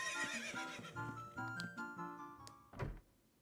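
A horse in The Legend of Zelda: Ocarina of Time whinnies in a long, wavering neigh, loud and close, ending with a short snort and a thump.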